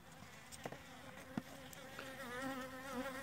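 Honey bees buzzing at a basket hive being wintered, a weak colony feeding on cake after the lid is closed; a steady, close, wavering drone with a few soft knocks and bumps, no talking.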